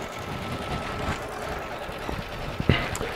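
Baby Lock embroidery machine running a positioning stitch through quilt batting, a steady fast mechanical whirring and tapping hum with a few small clicks near the end, no talking.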